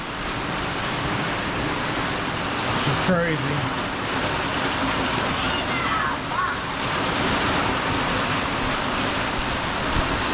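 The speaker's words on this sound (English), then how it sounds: "She's gonna go play in the rain." Steady rain pours down outdoors, making a dense, continuous hiss that fills the whole scene, while a voice briefly speaks near the middle.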